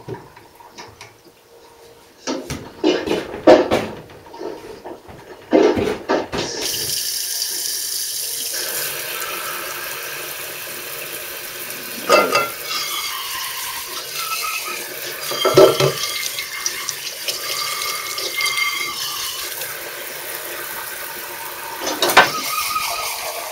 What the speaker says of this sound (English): Pretty nice having the hot water out right in my milking cabin